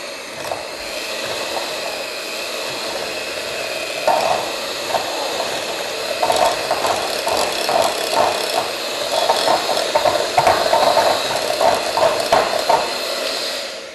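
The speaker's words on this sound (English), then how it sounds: "So I'm gonna beat this a bit. So it's gonna be noisy." A mixer beats cream cheese for a pudding filling in a home kitchen, a steady loud mechanical whir throughout with rattling bursts of the beaters in the bowl, close, with no talking.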